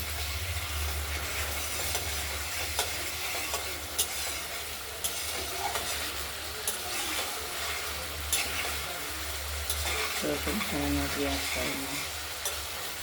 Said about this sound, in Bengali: মশলা থেকে তেল বেরিয়ে বেরোচ্ছে কষানো হয়ে আসছে